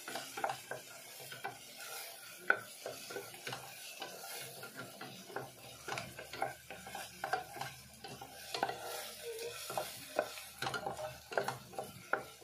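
Onions stirred as they fry in a pan for a pasta dish, a steady crackling sizzle broken by frequent scraping strokes and light clinks of the spoon against the pan, with no talking.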